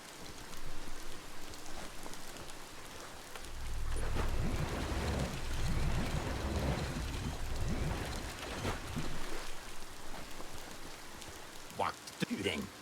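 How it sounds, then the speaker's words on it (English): Steady rain patters throughout a Biomutant game scene, a constant wash of droplets with a deeper rumbling swell in the middle and a few sharp clicks near the end. "The rain can't last forever, right?"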